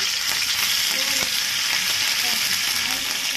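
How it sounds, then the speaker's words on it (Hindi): Garlic and ginger fry in hot oil for a potato-mushroom dish, giving a dense, steady sizzle throughout, close and alone with no talk. "जितनी देर में लहसुन अदरक वहाँ पर फ्राई हो रहा है"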